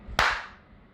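A single sharp hand clap in a home kitchen, loud and close, with a short ringing decay fading over the following half second.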